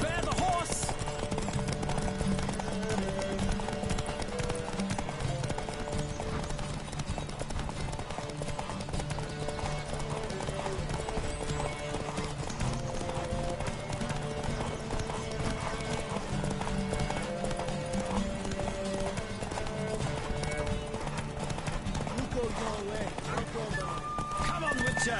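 Steady hoofbeats of a galloping horse in The Witcher 3 run throughout at a quick, even rhythm, under a constant background bed of game ambience.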